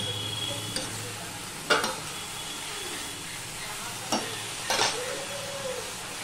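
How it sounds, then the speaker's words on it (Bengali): Spinach being stirred with vegetables in a frying pan: a low continuous sizzle under a few sharp scraping strokes of a spoon against the pan, spaced irregularly. "এইভাবেই সম্পূর্ণ সবজির সাথে আমি এটা মিশিয়ে নিচ্ছি।"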